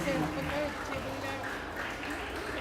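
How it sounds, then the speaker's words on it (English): A school day audience applauds a guest speaker, with dense clapping from the crowd that runs steadily throughout, partly under a voice speaking over it. "Let's give another round of applause."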